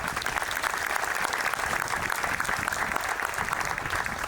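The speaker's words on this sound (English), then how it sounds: "Please give yourselves a round of applause for that." An audience at a police chief's retirement ceremony breaks into sustained applause, a dense, even roar of many hands clapping at steady volume, with no voices heard over it.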